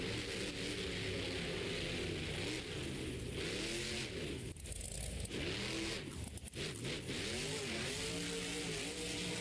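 The Monster Mutt Dalmatian monster truck engine revs hard in an indoor arena at close range, its pitch rising and falling in repeated surges, with a brief dip in the middle.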